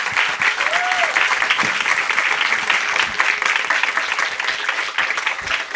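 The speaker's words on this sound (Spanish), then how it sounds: "Un aplauso para Carlos." Loud, close applause from an audience at a screenwriting pitch event, continuous dense clapping with a few cheers mixed in, holding steady throughout.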